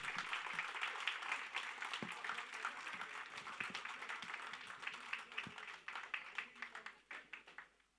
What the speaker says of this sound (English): So a big round of applause for Team Vasuki.